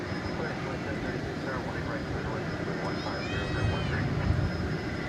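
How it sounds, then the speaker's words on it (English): British Airways Airbus A380 jet taking off at Dallas Fort Worth, a steady broad engine roar heard at a distance that swells slightly near the end, with talk in the background. "British Airways A380 off to London Heathrow"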